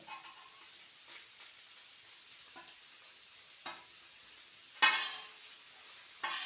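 Chow mein with egg bhujia being stirred and fried in a pan, a faint steady sizzle broken by a few scraping stir strokes and one sharper clatter near the end.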